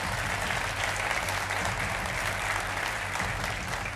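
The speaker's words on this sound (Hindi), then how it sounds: "तालियों के साथ आप सभी का बहुत बहुत अभिनंदन" Studio audience applause on a Hindi television debate show, a dense, even wash of clapping that holds steady and fairly loud throughout without pauses.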